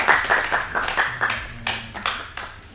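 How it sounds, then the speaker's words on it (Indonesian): A classroom group of students claps for group 1, a short burst of brisk, scattered handclaps that starts strong and tapers off over a few seconds. "Kita beri aplaus dulu untuk kelompok 1."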